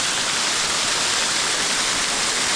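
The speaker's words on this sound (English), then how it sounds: "Guys, this is waterfall" A waterfall near a village roars as a dense, steady rush of falling water, loud and close, with no voices.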